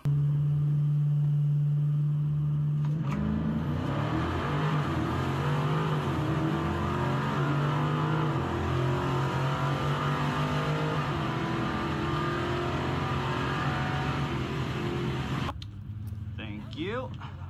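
A 2023 Dodge Challenger SRT Demon 170 launching down a quarter-mile drag strip at a race in Detroit, with a loud droning idle, then a sustained roaring run with shifting engine tone before fading out.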